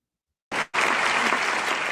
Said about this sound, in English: This is an audience in Budapest applauding after a performance.